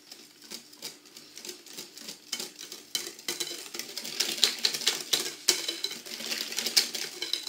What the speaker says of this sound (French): On mélange bien pour qu'il n'y ait pas de grumeaux.